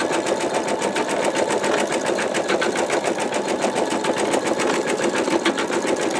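Embroidery sewing machine stitching a bumblebee quilt block, a loud, rapid, even needle chatter running steadily throughout, close up with no talking.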